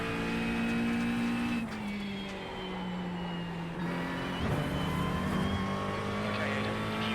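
A GT3 race car at Brands Hatch in a racing video game drones steadily, with a gearshift dip partway through and the engine pitch sliding between gears. The sound is loud and continuous, with no one talking.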